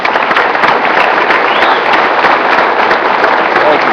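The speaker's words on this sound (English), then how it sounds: "let's give one more round of applause to all those black shirts" A crowd applauds continuously at an Ariens company celebration of its 3 millionth Sno-Thro, loud and steady throughout, a dense wash of clapping with no pauses.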